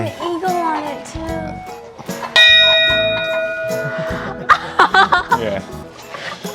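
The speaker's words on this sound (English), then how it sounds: "This is my favorite part of it though, the bell." A fire truck's bell, fitted with an eagle ornament, is struck once and rings with a sustained metallic tone for about two seconds, with people talking and a voice and chuckles around it.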